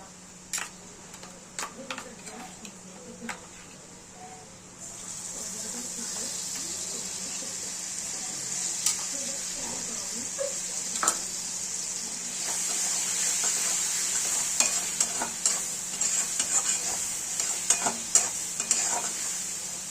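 Ginger-garlic paste stirred into onions frying in a pan for dhaba-style egg bhurji. A steady sizzle runs under repeated close scraping and clinking strokes of a spatula, and the frying grows louder partway through.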